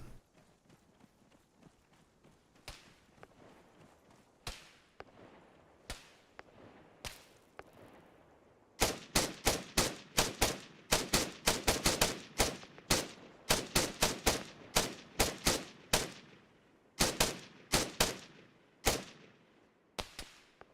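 Gunfire in the Antistasi mod, starting with faint scattered distant shots, then loud sharp rifle cracks fired in quick volleys and separate bursts with short pauses between them.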